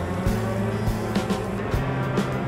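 A racing kart engine is pull-started, running on race fuel, and it catches and runs. It gives a steady buzzing idle close by, with a few revving pulses and bursts of louder noise.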